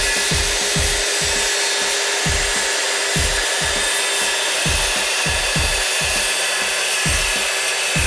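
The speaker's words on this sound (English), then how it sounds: "With two hands on my saw, I line the blade up with my mark, I pull the trigger, and I make the cut." A handheld power saw cuts through wood in a carpentry setting, a loud continuous whine punctuated by a steady series of low thumping strokes, close and sustained throughout.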